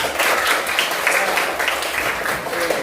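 A crowd applauding steadily, a dense wash of many hands clapping at once, close and loud throughout.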